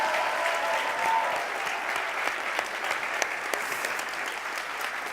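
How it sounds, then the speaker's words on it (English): An audience at a national science-communication final keeps applauding, dense steady clapping that holds for several seconds and slowly eases off. "keep the round of applause going"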